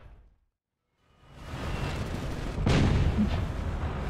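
Tank cannon fire in a Strv 122B (Leopard 2A5) battle game: a brief muffled thump, a sudden silence, then a swelling rumble with a heavy booming blast, sustained and loud, without voices.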